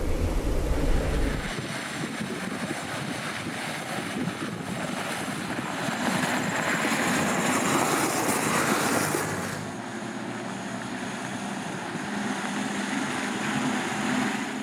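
RAF 251 bus engine roaring steadily from inside the cabin, a loud broadband drone that eases slightly partway through, no talking.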